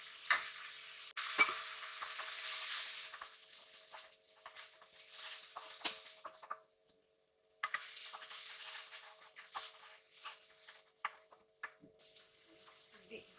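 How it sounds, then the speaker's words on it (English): Blended onion and curry powder fry and get stirred in a pan for a curry cabbage with eggs dish, a steady sizzle with scraping spatula strokes, broken by a brief pause partway through. "So now I add in the blended onion. And add in the curry powder."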